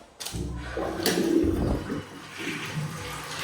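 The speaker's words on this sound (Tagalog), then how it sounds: "Malakas naman yung tubig namin dito." Strong water gushes through the plumbing of a newly built house, a close, steady rush starting abruptly and continuing throughout.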